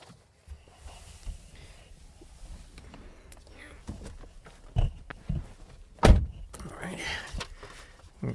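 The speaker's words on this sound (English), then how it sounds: "apparently now I need to get in and close the door" A Ram 1500 pickup truck door shuts with a heavy thunk amid rustling and shuffling inside the cab, preceded by smaller knocks and handling noises, close and moderately loud.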